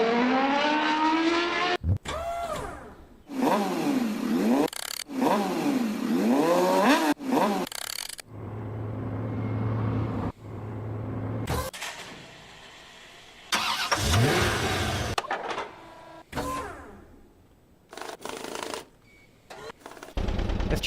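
Synthesized car engine revving effects are auditioned in FL Studio as separate bursts with rising and falling pitch sweeps. Short gaps and a low droning hum fall between them.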